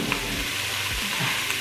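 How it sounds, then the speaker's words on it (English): Green pepper and green onion frying in a pot for chicken gumbo, a short, dense, steady sizzle with no voices over it. "I'm going to add my green pepper, my green onion, I mean"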